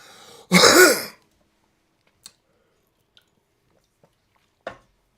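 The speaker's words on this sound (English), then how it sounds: "I needed to clear my throat." A single loud, rough throat clearing up close, followed by silence with a few faint small clicks and taps.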